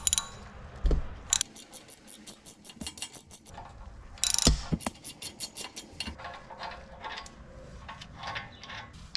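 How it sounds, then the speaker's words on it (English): Hand ratchet loosening 17mm brake caliper bolts on a Lexus GX470, quick bursts of fine clicking with pauses and clanks of tools between strokes, close and fairly quiet. "So I start by removing the brake caliper bolts here."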